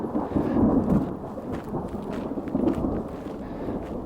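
Distant thunder from a storm rolls over a high mountain ridge on the Uinta Highline Trail, a low, drawn-out rumble with a couple of swells amid rain and wind noise, no voices.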